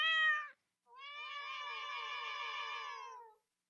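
A video game cat in Minetest gives two clear meows, a short one followed after a brief pause by a longer, drawn-out mew, with nothing else heard.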